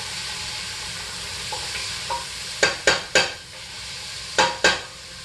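Coconut oil heating in a pot on a stove, with a steady bed of hiss and sizzle, some soft clinks, and several sharp spattering pops in a cluster, then two more near the end.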